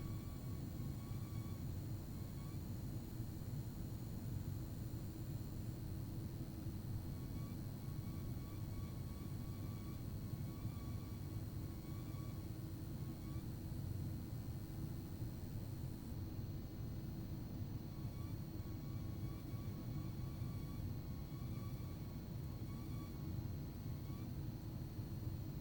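An A320 airliner in a flight simulator game accelerating down the runway for takeoff, a loud steady low engine roar and rumble that holds throughout without letup.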